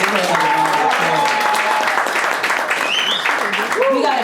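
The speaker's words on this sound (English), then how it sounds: "Give her another round of applause." Comedy-show audience applauding and cheering steadily throughout, with a few voices whooping and calling out over the dense clapping.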